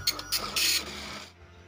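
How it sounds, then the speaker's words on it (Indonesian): An Epson LQ-2190 dot matrix printer running a test print after its head needles were fitted, giving short bursts of rasping, buzzing print-head noise with brief pauses, close by, before falling quiet. "kita nanti akan lihat hasilnya seperti apa setelah proses test print ini berjalan"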